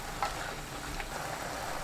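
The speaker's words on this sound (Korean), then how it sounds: "미림 2큰술, 물 100ml 넣고 섞어주세요." A sauce of mirin and water stirred in a pan over anchovies and radish greens, a steady sizzling hiss with soft scraping stir sounds and a brief clink at the start.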